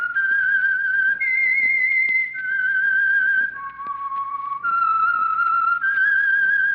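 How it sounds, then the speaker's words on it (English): A lone whistler performs the theme of the 1946 radio drama The Whistler, the Signal Oil Program signal: a clear, eerie melody of long held notes that step up and down, close and prominent. "That whistle is your signal for the Signal Oil Program, The Whistler."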